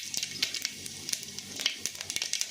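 Mustard seeds crackle in hot oil in a pan, a faint, steady sizzle broken by scattered quick pops and spits with no voices.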